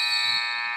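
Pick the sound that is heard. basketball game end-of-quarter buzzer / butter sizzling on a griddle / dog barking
basketball game end-of-quarter buzzer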